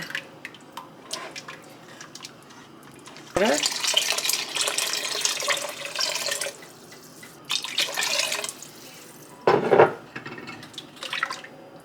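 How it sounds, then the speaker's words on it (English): Water poured into a cooking pot in bursts, three cups one after another for cooking lentils with coconut milk, a splashy gush that stops and restarts, close and moderately loud in a quiet kitchen. "And next I'm going to add 3 cups of water."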